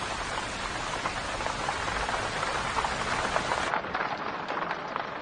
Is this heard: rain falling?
yes